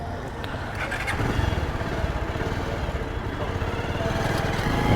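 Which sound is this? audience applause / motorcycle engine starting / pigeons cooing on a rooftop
motorcycle engine starting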